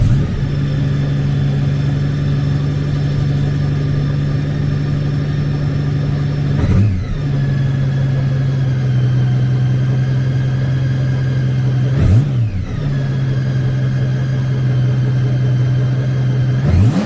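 A 2015 Honda GL1800 Goldwing with a trike kit, its 1832cc six-cylinder engine running at a steady idle with a low, constant hum. The idle dips briefly twice, and no voices are heard.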